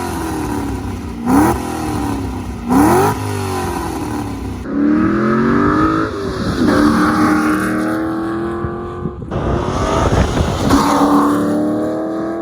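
A warmed-up car engine idles through long-tube headers with no mufflers, loud and close, with a deep burbling rumble broken by a few sharp revs.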